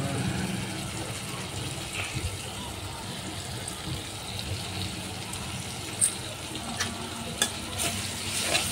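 Boiled noodles tossed in a hot pan with soy sauce and tomato ketchup give a continuous low sizzle and soft stirring, with a few sharp utensil clicks near the end.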